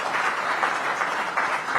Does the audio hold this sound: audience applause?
yes